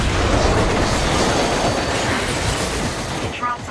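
In the Scarlet Nexus video game, a train runs loudly along its rails with a continuous rumbling roar, fading slightly toward the end with faint higher squeals.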